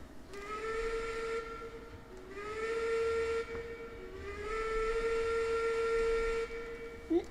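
Steam locomotive whistle from the video game Railroads Online, three long sustained blasts, each rising slightly in pitch and held for about two seconds, loud and clear over a low rumbling engine bed with no talking.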